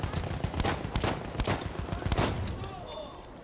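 Rifle gunfire in the video game Battlefield 1, a dense burst of repeated shots with a steady, rattling rhythm, loud and close, continuing over a few seconds with a little talk mixed in.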